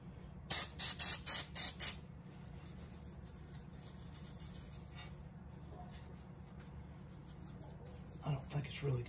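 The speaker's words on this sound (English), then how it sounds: "spray this outer surface off here with some brake clean." Five quick bursts of brake cleaner spray hiss close by in rapid succession onto a BMW wheel hub, followed by a low background hum and some faint handling noise.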